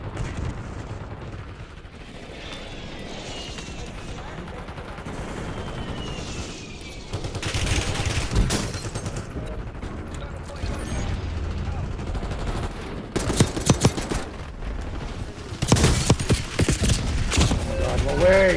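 Dense bursts of video-game gunfire and explosions during a hostile airstrike, with sustained rattling volleys building louder in the second half, mixed with an excited player talking over the action.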